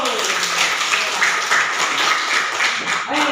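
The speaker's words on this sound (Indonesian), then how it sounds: "Kita kasih tepuk tangan dulu." Students clapping together in a classroom, a dense steady round of applause lasting several seconds, close and fairly loud, with a voice briefly at the end.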